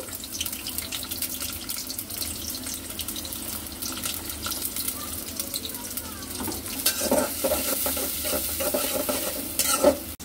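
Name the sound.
chopped onion frying in oil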